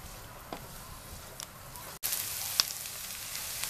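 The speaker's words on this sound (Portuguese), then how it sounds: "vamos aumentar o nosso fogo aqui da nossa panela, para deixar dourar um pouco essa cebola e esse alho" Onion and garlic sautéing in a pan as the heat is raised, a quiet sizzle that jumps louder partway through, with a few small clicks and knocks close by and no speech.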